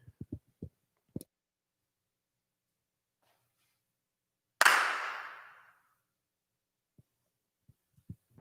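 A single sharp hand clap rings out in a quiet concert hall, its reverberant decay trailing off for about a second before near silence and a few faint taps.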